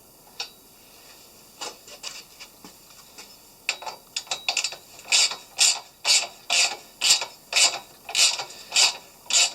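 Ratchet wrench tightening bolts on a Givi rack fitted to a Royal Enfield Meteor 350, with scattered clicks at first, then a steady run of loud, rhythmic ratcheting strokes close up, no talk.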